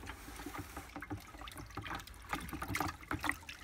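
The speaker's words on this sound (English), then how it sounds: "Now I'm just going to give it a quick stir." Nutrient solution is stirred into the water of a clone bucket, making soft, irregular sloshing and trickling swirls, close and fairly quiet.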